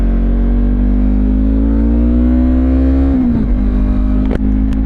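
A Yamaha MT-03 motorcycle engine drones loud and steady on a highway, holding a constant pitch before dropping briefly, probably on a gear change, and then picking up again, with rushing wind and no talking.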